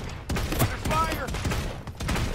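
Rapid bursts of gunfire crackle through a battle royale video game fight, sharp repeated shots at close range with a brief voice underneath.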